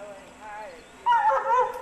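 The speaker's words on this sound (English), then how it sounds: "I don't know if you could hear her barking a minute ago." A dog barks and yips in short bursts outdoors on a creek walk, loud and near in the second half, with a person talking over and around it.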